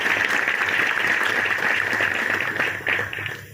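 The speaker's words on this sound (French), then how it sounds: "Merci beaucoup pour vos applaudissements." Audience applause at a ceremony marking the start of works on a technical and vocational high school's sports ground: a steady, dense clatter of many hands clapping, sustained at fairly even loudness and tapering slightly near the end.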